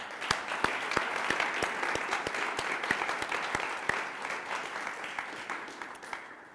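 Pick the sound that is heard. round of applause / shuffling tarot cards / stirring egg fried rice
round of applause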